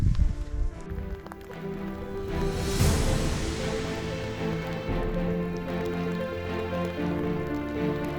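Steady rain falls during a trek up the Pasochoa volcano in Ecuador at about 4,000 metres, a continuous broadband patter on nearby surfaces with a brief louder burst midway and no talking.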